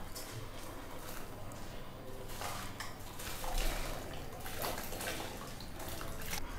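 Soaked, washed rice tipped into a pot of boiling water for ven pongal gives a close, steady wash of splashing and bubbling, with faint clinks of the pot.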